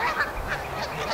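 Geese honk repeatedly in short, nasal calls that overlap in a loose, uneven rhythm, fairly close and loud against quiet outdoor background.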